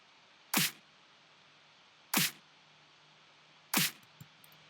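Punchy layered snare sample with the low end cut by EQ, struck three times at even intervals, each hit sharp and bright with a short tail, alone over a faint noise floor.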